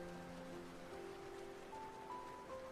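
Rain patters steadily on a rooftop in a video game, a soft continuous hiss of drops under faint sustained musical tones, quiet and even throughout.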